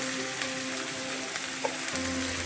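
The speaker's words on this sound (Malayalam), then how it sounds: "നമുക്ക് 2 മീഡിയം സൈസിലെ സവോള നല്ലതായിട്ട് വഴറ്റിയെടുക്കാം." Two medium onions fry in oil for fish biryani, the oil left over from frying the fish, making a dense, continuous sizzle close by, steady throughout with a faint clink partway.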